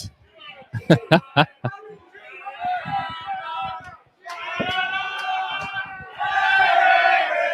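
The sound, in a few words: crowd cheering at rugby league grand final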